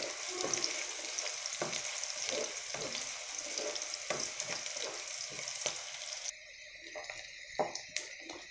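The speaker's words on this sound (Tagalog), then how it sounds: "Tuloy natin ang ating bawang. Ayan, haluin lang natin." Garlic fries in a pan with a steady crackling sizzle, while a utensil stirs it in periodic scraping taps. The sizzle drops abruptly near the end as a few sharper knocks stand out.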